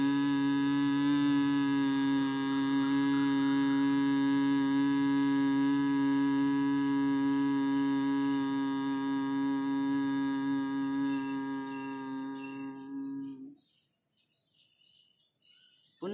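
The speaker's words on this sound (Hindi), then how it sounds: "हमिंग साउंड में मकारा की ध्वनि होगी।" A meditation humming tone on the 'm' (makara) sound holds steady and resonant for about thirteen seconds, a sustained drone with rich overtones, then fades out into near silence.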